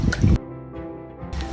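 Water sloshes and drips in a tray during a wet cyanotype process, a short close burst of agitation at the start and end with a quieter liquid trickle between.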